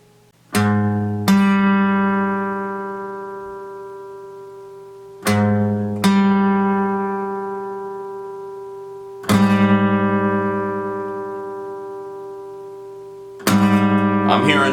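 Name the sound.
major seventh interval for ear training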